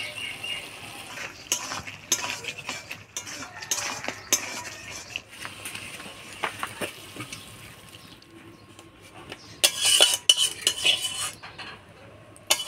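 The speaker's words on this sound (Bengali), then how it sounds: "এবার শুকনো লঙ্কা বাটি নেব, দিয়ে দেবো সামান্য চিনি, সামান্য ঘি দিয়ে নাড়াচাড়া করে নামিয়ে নেব।" A spoon stirs dry red chilli paste with a little sugar and ghee in a pan, producing irregular metallic clinks and scrapes of utensil on cookware, close and fairly quiet, with sharper clattering bursts toward the end and no talking.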